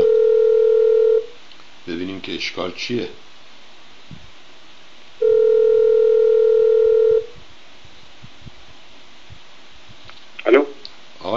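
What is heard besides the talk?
telephone dial tone and dialing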